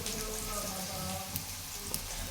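Bitter gourd fries in oil with onion and salt in a wok, giving a close, steady sizzle over a couple of seconds with a few faint taps.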